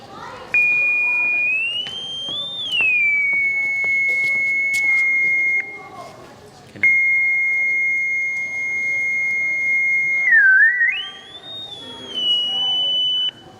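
Electronic tone generator at a children's science show, emitting long steady high pitched beeps that sweep upward and waver before holding flat, broken by a short gap and then resuming.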